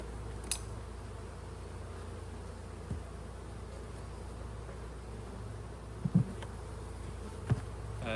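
Honey bees hum steadily in an open beehive above the brood nest, a continuous low, close drone with a few brief knocks and rustles of handling.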